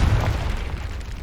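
A Confringo fire spell goes off in Hogwarts Legacy, a short deep booming blast with a rumbling burst that fills the whole moment.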